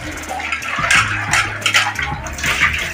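Tap water runs steadily during dishwashing, a continuous close splashing wash with faint clinks of utensils and no voices.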